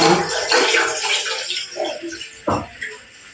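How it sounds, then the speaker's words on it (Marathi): Water poured into a pot of rice while making chicken pulao: a close, steady rushing splash that thins out, with a few sharper sloshes near the end and no voices. "तांदळाच्या दुप्पट पाणी टाकायचं आहे ह्याच्यात"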